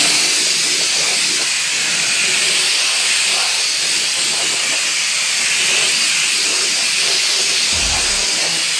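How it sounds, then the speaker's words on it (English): Compressed air blasting dust off large 26x14 car wheels, a steady loud hiss running unbroken throughout, close to the mic, with a brief low thump near the end. "I used compressed air to blow off all the dust on the wheels"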